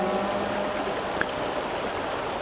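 Mountain brook trout stream in the Pennsylvania wilds rushing steadily, a constant broadband wash of flowing water close by with no voices.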